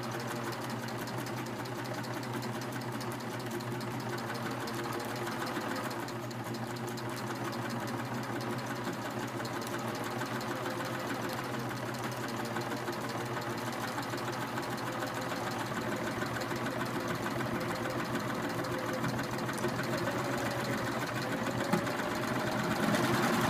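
A Baby Lock serger runs steadily through twill fabric backed with stabilizer, a continuous close mechanical whir with a fast rhythmic chatter that holds even in loudness the whole way with no talking.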